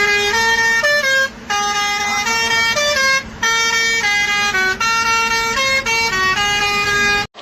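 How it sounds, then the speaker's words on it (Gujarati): A truck's multi-tone horn blares loudly and close, in a long sequence of stepped musical notes with brief gaps, on a road. "આ ટ્રકવાળા ભાઈને કીધું એટલે હોર્ન વગાડો"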